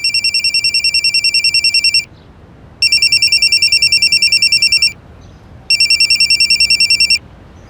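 A telephone rings loudly and close with a rapid electronic trill, three bursts of about two seconds each separated by short silences.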